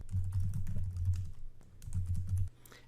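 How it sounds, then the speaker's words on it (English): Rapid typing on a computer keyboard while entering slide content, a steady close clatter of keystrokes in two bursts separated by a brief pause. "it's a matter of simply clicking on each area and just typing the content of your slides"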